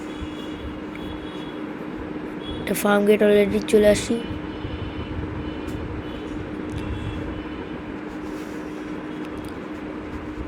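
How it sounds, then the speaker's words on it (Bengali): A Dhaka metro rail train at Farmgate station produces a steady mechanical hum, broken briefly by a louder tonal burst, while people talk nearby. "তো এটা মেট্রো রেল এখন চলে যাবে।"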